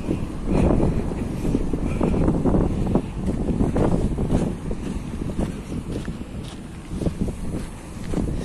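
Strong wind blows outdoors, buffeting the microphone with a loud, continuous roar and gusty rumble throughout, with no talking.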